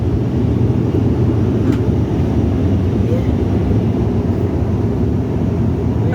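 Inside the cabin of a nearly empty passenger plane in flight, a loud, unbroken low engine drone and airflow rumble fills the space, steady throughout with a couple of faint clicks.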